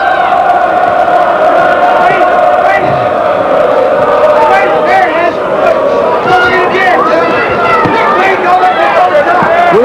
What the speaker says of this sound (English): and the crowd chants